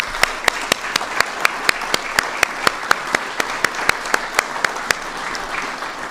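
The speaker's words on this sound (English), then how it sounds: "I want to give them a quick round of applause." Crowd applause for government and law enforcement officials at a presidential speech on immigration enforcement, a steady sustained clapping with sharp repeated peaks across the whole stretch, moderately loud and without talk.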